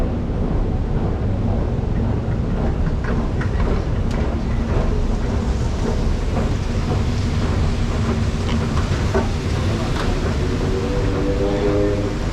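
Loud, steady rumble of an old underground LRT train in Malaysia running from Ampang Park toward Pandan Jaya, with continuous rolling noise and occasional clacks and squeals throughout.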